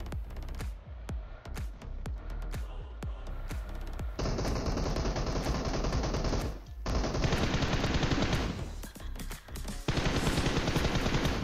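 Rapid bursts of automatic gunfire from a mobile battle royale shooter game crackle loudly, with rattling volleys and short pauses between sprays.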